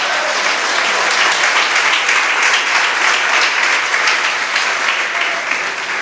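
Congregation applauding during a Spanish-language church service, a steady, loud wash of clapping from many hands throughout, with no talk over it.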